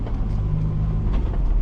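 A car rolling downhill with the clutch held in, giving a steady low engine and road rumble that stays fairly loud and even throughout, with no talking.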